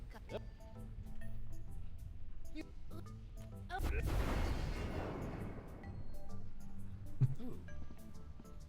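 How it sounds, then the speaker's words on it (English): A loud, rumbling explosion erupts midway in Tales of Monkey Island, preceded and followed by sharp gunfire-like bangs, clinks and game sound effects, with voices murmuring underneath. "you just hear like the explosions out of context"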